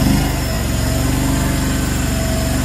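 Engine of a Chinese mini skid steer running steadily, a loud close rumbling idle with a regular low pulse that holds even for a few seconds.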